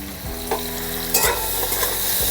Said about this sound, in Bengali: নাড়াচাড়া করে লাল করে ভেজে নেব।